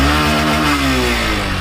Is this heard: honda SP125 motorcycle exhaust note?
yes